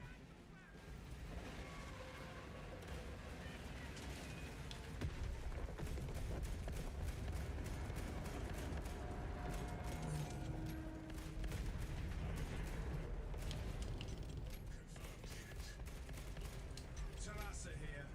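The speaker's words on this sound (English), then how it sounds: "Detonate the charges now." Explosive charges detonating in the Space Marine 2 video game, a sustained roar of blasts and rapid gunfire-like bursts, loud and dense throughout with voices mixed in.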